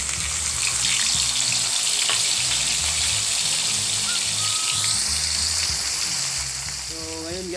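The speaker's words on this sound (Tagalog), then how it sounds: "So, nagpainit tayo ng kunting mantika guys. So, piprito natin yung tuyo natin." Dried tuyo fish frying in a little hot oil, the start of an escabeche: a loud, dense, continuous sizzle close at hand that holds steady throughout, with a few faint tonal chirps near the end.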